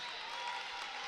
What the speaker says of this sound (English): Lawrence High crowd going absolutely nuts.